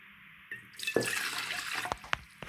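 Water poured into a bowl to start a dough for stuffed snails, a soft splashing pour that begins after a quiet moment and runs steadily with a few sharper drips and clinks near the end, close and moderately loud.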